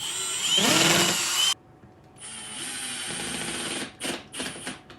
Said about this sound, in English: I'm gonna drill my first pilot hole